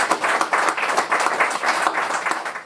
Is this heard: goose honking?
no